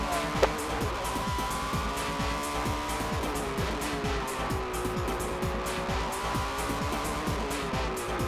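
A Honda NSX race car is driven at full racing speed on a circuit. Its engine howls loud and continuous, its pitch rising and falling repeatedly through gear changes and corners, with occasional tyre scrub.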